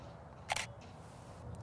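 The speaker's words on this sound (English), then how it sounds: "So I'm going to adjust my shutter, going from 1/100th to about 1/500th of a second." A single-lens reflex camera gives one short, crisp shutter click, close and isolated, with faint room noise around it and a softer mechanical tick shortly after.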